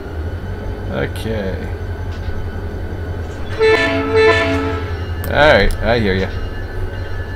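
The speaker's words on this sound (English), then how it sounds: "That's my AI train here. With the funny horn." An AI-driven freight train in the Run8 train simulator sounds an odd, funny horn in a few loud blasts over a constant engine drone, while someone talks briefly over it.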